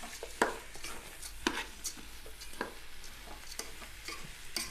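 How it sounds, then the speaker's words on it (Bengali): Rice and lentils for chicken khichuri being stirred and lightly fried in a pot, heard as quiet scraping and intermittent spoon taps over a faint sizzle, with no talking. "আমরা এটাকে নাড়াচাড়া করব, ভালোভাবে মিক্স করে নিব এবং হালকা করে ভেজে নিব"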